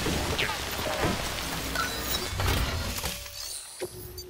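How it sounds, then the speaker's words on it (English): Steady rain falls in the video game Death Stranding, a dense continuous hiss that fills the whole stretch with no speech over it. "It is just raining."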